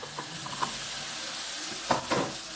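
Chicken gizzard frying in a pan while being stirred, a steady oily sizzle broken by a few sharp utensil scrapes and clinks, louder near the end.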